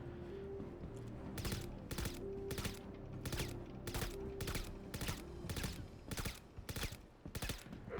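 Repeated bursts of automatic gunfire from the video game Star Citizen crack out at a steady rhythm, loud and close, over a constant low mechanical hum.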